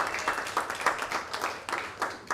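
A comedy club audience claps in a short, uneven burst of applause, moderately loud and continuous with no talking over it.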